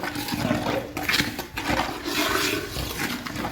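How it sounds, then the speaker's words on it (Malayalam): Oil left over from frying beef is poured into a pan and stirred through in a home kitchen, giving a steady, loud wash of sizzling and splashing with brief scraping surges, without talk. "ബീഫ് കോരി വെച്ചപ്പോൾ ഉള്ള എണ്ണയാണ് ഒഴിച്ച് കൊടുക്കുന്നത് കേട്ടോ. അതും കൂടെ ഒഴിച്ച് കൊടുത്ത് നമ്മളിങ്ങനെ ഇളക്കും."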